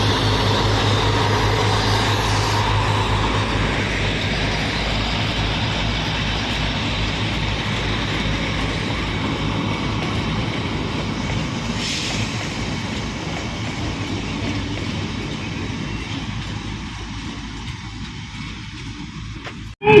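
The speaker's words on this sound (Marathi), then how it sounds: "खूप जवळून चालली होती माथेरान ट्रेन आणि इथे पाहू शकता किती स्लो जाते ती" The Matheran toy train rolls slowly past very close, a steady loud rumble of its engine and wheels with rhythmic clatter that continues throughout before cutting off abruptly at the end.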